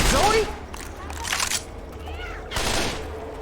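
Bursts of Left 4 Dead 2 gunfire in the Death Toll campaign rattle out in three loud volleys, mixed with game voices and other in-game noise.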